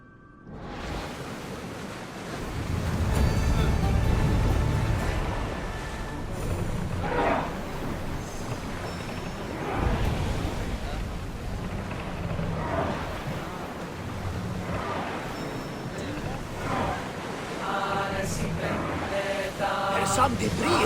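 Sea waves wash steadily around a sailing ship in Assassin's Creed Odyssey, a continuous broadband rush of surf and wind with swelling surges, while voices speak faintly over it in places.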